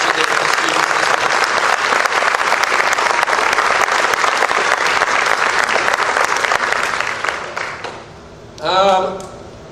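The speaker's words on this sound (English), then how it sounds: "we give her a very special round of applause for all the work she did with the students this week" A school band concert and awards ceremony audience gives loud, sustained applause that fades away near the end, as a voice briefly begins to speak.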